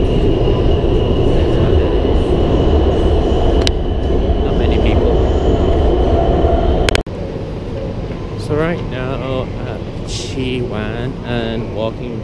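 Shenzhen Line 5 metro train running through a newly opened station: a loud, steady rumbling roar that cuts off abruptly partway through, leaving a lower hum while a person talks over it.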